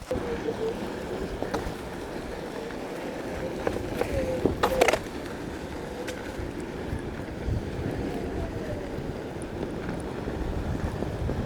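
An electric Onewheel GT board rolls downhill outdoors with a steady rumbling wheel-on-pavement roar, a brief clatter midway, and faint voices in the background.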